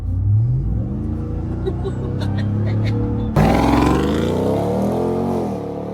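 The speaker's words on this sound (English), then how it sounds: "it's just hard not to put a smile on your face when you get into that throttle" Supercharged 6.2-liter V8 truck accelerating hard, a loud engine roar rising in pitch, then stepping up into a harsher, stronger surge with rising supercharger whine.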